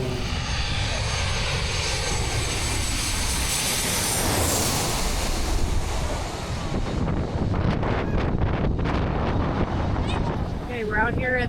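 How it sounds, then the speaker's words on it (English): A big airliner passes low overhead at Maho Beach, a loud sustained jet roar with heavy wind buffeting on the microphone, swelling and then fading as it goes by, with people talking faintly underneath. "we believe it's a pretty big plane coming overhead"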